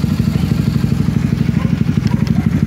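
A motorcycle engine idling close by after an exhaust replacement, a loud, rapid pulsing exhaust putter with a steady low throb.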